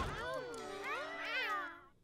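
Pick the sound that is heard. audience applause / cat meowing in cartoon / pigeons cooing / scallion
cat meowing in cartoon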